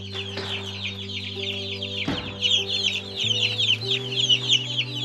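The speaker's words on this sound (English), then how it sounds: "These are Cornish cross broilers, and this is the worst batch of chicks I have ever experienced." Cornish cross broiler chicks on a homestead, a close flock chirping and clucking continuously in busy overlapping peeps over a steady low hum from equipment.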